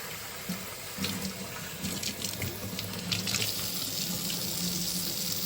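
Red kidney beans rinsed under a running kitchen tap, water splashing steadily into the sink for several seconds with soft shifting as the beans are moved, close and continuous with no talk.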